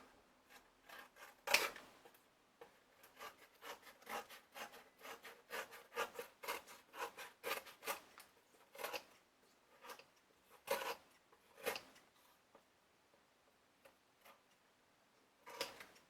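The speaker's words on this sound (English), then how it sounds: "Now I'm just going to trim the excess." Scissors or a blade trim excess covering material from around the edge of a clipboard, making soft, close, repeated snipping and scraping strokes in quick irregular bursts with short pauses, with no talking.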